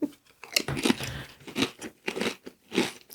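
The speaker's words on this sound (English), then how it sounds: "At least crunching is a nice sound." Crunching bites and chewing of a prawn cocktail flavoured snack, a run of close, loud crisp crackles in uneven bursts, heard alone without talk.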